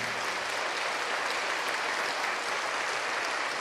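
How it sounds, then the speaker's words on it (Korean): A church congregation applauds in a dense, steady wash of clapping that fills the large room evenly throughout, with no speech over it. "성도님들께서는 큰 격려의 박수를 부탁드립니다."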